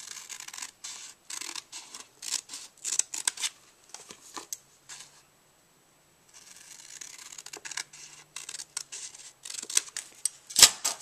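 Scissors snip closely around all four sides of a coaster print, giving quick clusters of crisp cutting and rustling paper, near and fairly quiet, with a brief silent pause midway.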